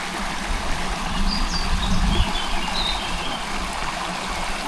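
Running water of the River Rivelin in Sheffield's Rivelin Valley rushes steadily and fairly loudly close by, a constant broadband wash with a few faint chirps high above it.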